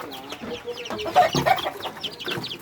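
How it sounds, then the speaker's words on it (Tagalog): Chickens cluck close by in a short burst of quick, overlapping clucks at moderate loudness. "Ito yung mga manok natin."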